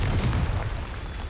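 Explosion of a Confringo blasting spell in the Hogwarts Legacy video game, a single dense low rumbling boom that fades slowly over about a second.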